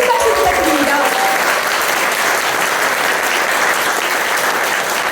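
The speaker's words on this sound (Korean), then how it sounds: "큰 박수 부탁드립니다." A crowd at a Rebuilding Korea Party members' meeting in Daegu gives sustained, loud applause for about five seconds, with a brief voice at the start.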